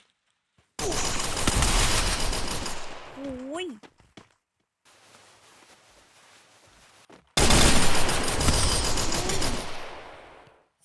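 Bursts of rapid Free Fire gunfire crackle loudly in two long volleys, with a brief quieter gap between them and a voice exclaiming over the shots.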